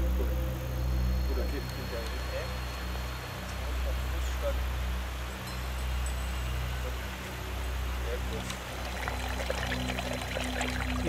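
Water flowing freely at a sacred natural site, a steady broadband rush with a low hum beneath it, continuous and fairly close for about eleven seconds.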